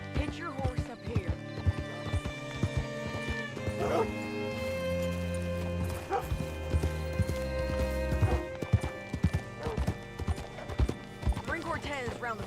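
Horse hooves clip-clopping in the video game Red Dead Redemption 2, a brisk, irregular stream of close hoof strikes over a musical score, with a dog barking and brief talk in between.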